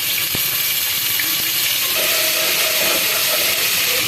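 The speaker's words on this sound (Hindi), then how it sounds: "टेबल स्पून ये लहसुन अदरक का पेस्ट डाल रहे हैं।" Ginger garlic paste sizzles and fries in hot oil with browned onions and cumin seeds, a steady loud hiss throughout with a faint tonal hum joining partway.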